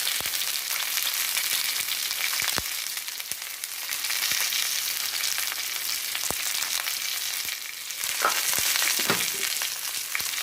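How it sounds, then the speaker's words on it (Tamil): Chopped onions sautéing with salt in a pan for a village-style fish curry masala, a steady soft sizzle broken by sharp clicks of stirring, close and without speech. "இதை நல்லா வதக்கி விட்டுக்கலாம்"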